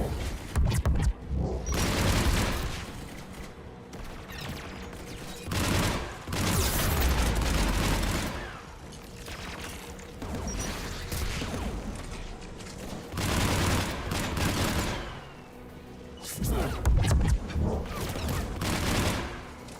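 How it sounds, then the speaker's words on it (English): Geth anti-aircraft guns in Mass Effect fire in repeated heavy bursts, loud and close, with booming volleys separated by brief lulls and a mechanical rumble running underneath. "The Geth anti-aircraft guns are up ahead."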